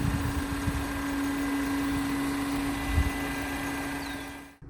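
A BMW 5 Series' 2-liter four-cylinder turbocharged 255-horsepower engine idles with an even, steady hum and a constant low tone, close and alone, cutting off at the end.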